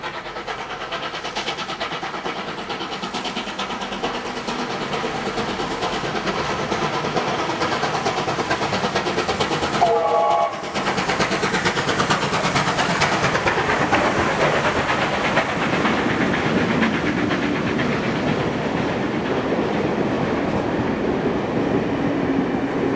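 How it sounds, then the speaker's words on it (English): Two steam locomotives, 3801 and 3526, haul a heritage shuttle train at Alawa, a loud, sustained rumble and rolling clatter passing close by for the whole span with a brief dip midway and no talk. "we caught up with 3801 and 3526 at Alawa, with their fourth and final shuttle train to Hurstville"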